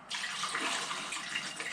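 Fixer pours steadily into a film developing tank close by, a continuous splashing stream with no talking.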